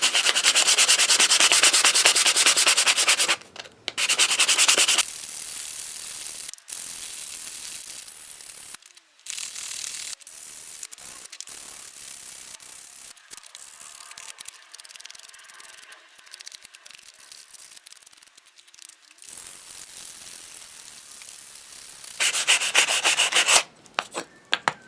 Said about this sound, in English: sanding is definitely not the most interesting thing to watch